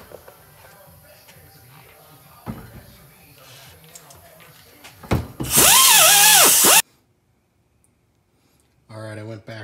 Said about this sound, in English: I went back all over everything with this cupped abrasive wheel.